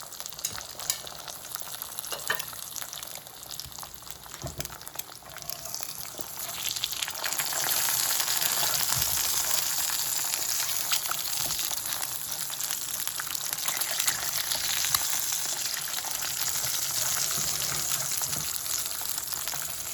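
Tortillas sizzle over a gas flame on a home stove, a continuous crackling hiss that grows louder and steadier after the first few seconds, close up with no voices.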